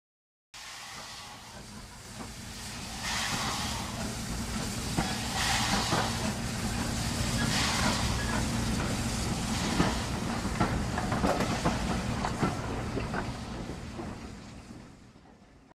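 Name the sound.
steam locomotive arriving at station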